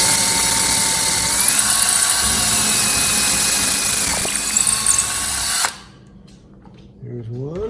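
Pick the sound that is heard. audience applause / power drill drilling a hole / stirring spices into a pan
power drill drilling a hole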